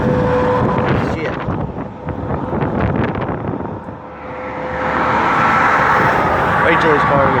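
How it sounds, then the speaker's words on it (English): A car drives past on a road beside a river during a bike ride, a broad rushing roar mixed with wind buffeting the microphone, fading and then rising again, with talk over it. "Wait till this car goes by to talk."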